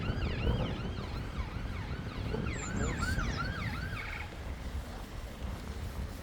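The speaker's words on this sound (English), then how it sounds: "Ambulance." An ambulance siren yelps in a rapid rising-and-falling pattern over steady traffic noise, fairly close and loud; a voice speaks briefly.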